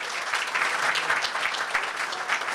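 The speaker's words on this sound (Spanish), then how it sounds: "un aplauso para ella" Steady, full applause from a seated audience at a book presentation, continuous and fairly close with no talking over it.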